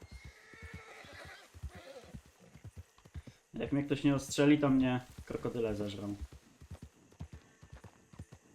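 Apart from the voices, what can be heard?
horse neighing and hooves clip-clopping in video game Red Dead Redemption 2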